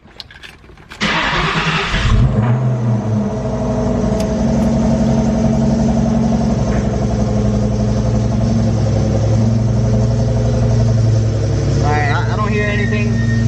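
Ford Mustang Cobra in a garage cranking with a short starter whir, catching into a loud, close start, then settling into a steady rumbling idle, with a voice speaking briefly near the end.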